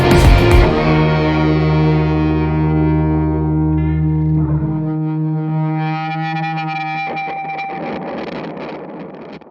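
Electric guitar and bass played through a Hologram Electronics Chroma Console multi-effects pedal, one loud sustained chord washed in distortion and reverb that shifts and shimmers as it rings out, with no voices.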